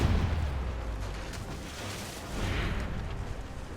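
Ship cannons fire in Assassin's Creed Rogue during a naval battle, a continuous rumble of distant, muffled booms under a low, steady roar.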